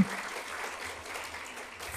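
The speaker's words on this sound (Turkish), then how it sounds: "Arda'ya da bir alkış alalım" A university faculty audience applauds the head of the radio-television department, a moderate, steady patter of many hands clapping at fairly even volume throughout.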